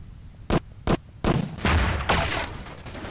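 Explosions and pops go off in a Prop Hunt video game: two sharp bangs, then a louder burst that rolls into a rumbling blast and fades out.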